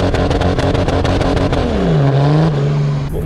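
A 400-horsepower BMW 335d roars through a burnout, its engine loud and close, climbing in pitch before settling into a sustained high-revving drone with no talking.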